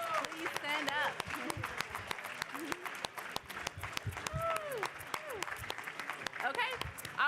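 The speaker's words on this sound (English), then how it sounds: "let's give you all a round of applause" Audience applause at a university awards ceremony, a steady wash of many hands clapping at moderate distance that carries on for several seconds, with voices chattering faintly underneath.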